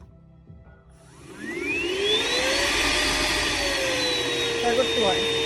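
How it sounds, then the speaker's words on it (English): A Hoover ONEPWR Evolve Pet Elite cordless stick vacuum switches on and spins up to a loud, steady high whine with a rising tone, running close and continuous over hardwood floor. "Here's my vacuum."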